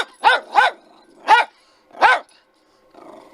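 A dog gives four loud, close barks in quick succession, two together, then two spaced apart, followed by quiet rustling.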